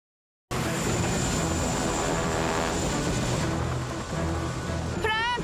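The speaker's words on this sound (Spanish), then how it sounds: "Trae el helicóptero 6" A steady, loud mechanical roar of rotor and engine noise, continuous throughout, with a whistling tone near the end.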